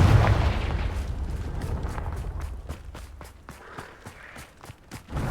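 A Confringo blasting curse bursts with a deep, heavy boom at the start in Hogwarts Legacy, then fades into a run of quick footsteps.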